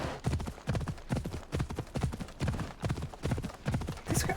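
Horse hooves gallop in a steady, rapid clip-clop rhythm in Assassin's Creed Odyssey, loud and close, continuing throughout with no talk over them.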